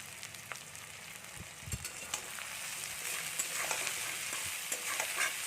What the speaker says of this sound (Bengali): এবার আমরা মশলাটাকে একটু ভালো করে কষিয়ে নেব